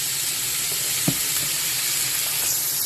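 Sliced sausage and okra frying in a pan, a steady loud sizzle throughout with a single light clink of a utensil partway through.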